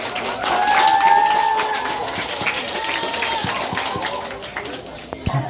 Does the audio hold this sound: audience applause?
yes